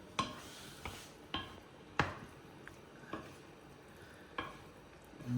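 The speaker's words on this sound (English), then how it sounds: "Mix everything together." Pasta being mixed together in a pan, with a series of separate utensil scrapes and stirs at an unhurried rhythm and a faint sizzle underneath.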